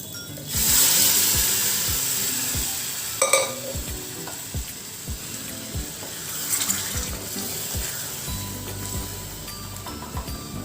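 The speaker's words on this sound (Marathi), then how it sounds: "आता मी यामध्ये थोडंसं गरम पाणी देखील टाकते" Hot water pours into a pot of chicken curry with a loud, steady hissing rush, over sizzling and a few clinks and scrapes of stirring.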